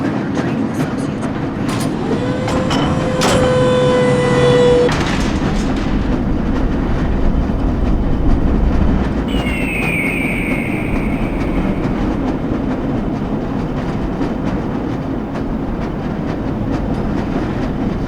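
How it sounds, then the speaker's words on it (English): A lever-controlled tram in the Black Mesa video game rolls steadily along its rails with a continuous rumbling drone, a squealing tone early on and a whining hiss midway, no voices. "This lever-controlled train will transport you to a location where your training associates"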